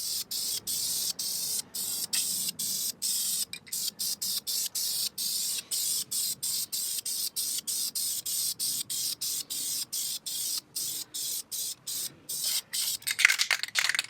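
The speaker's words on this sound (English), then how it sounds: "It's a nice thin coat to start off with. I'm just going to build up the colour slowly." Spray paint hisses from an aerosol can onto an airsoft gun in short, rapid bursts separated by brief gaps, close and fairly loud, building up thin coats, with no talk.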